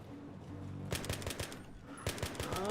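Machine gun fire from the video game Battlefield 3 comes in two short, rapid bursts of rattling shots, faint and somewhat distant over a quiet background hum.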